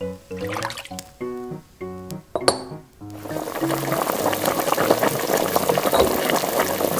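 A lobster boiling in a pot of water in a miniature kitchen: after a few seconds of light tinkling tones, a steady, dense bubbling rises and continues to the end.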